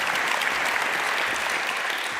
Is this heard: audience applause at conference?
yes